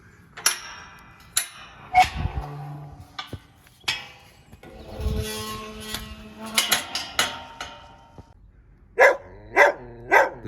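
A small dog barking outdoors, with sharp yaps in irregular bursts and pauses, some close and loud, with a quick cluster of barks near the end.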